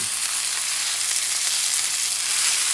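A 21-day dry-aged ribeye steak, 1 1/4 inch thick, sizzles in a cast iron pan, a loud, steady frying hiss close by.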